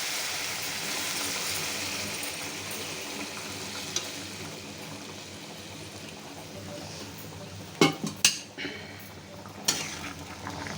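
Hot water poured into a frying pan of fried food, producing a steady hiss and sizzle with a few sharp clattering knocks of a utensil against the pan near the end.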